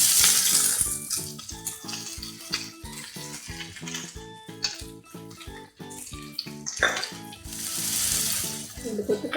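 Finely chopped onions hit hot oil where mustard seeds have already popped, cooking a bitter gourd thokku at home; bursts of sizzling hiss rise at the start and again near the end over steady background music.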